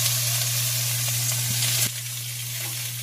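Cabbage for pancit hits a hot frying pan and sizzles loudly and steadily, with a faint stirring clink partway through and the hiss settling a little quieter afterward; no one talks.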